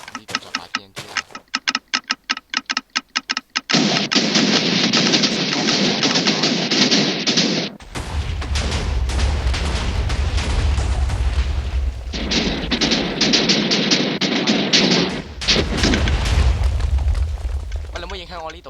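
TNT blocks explode in the Minecraft video game: a rapid run of sharp clicks gives way to long, loud, roaring blast bursts with deep rumble, broken by brief gaps.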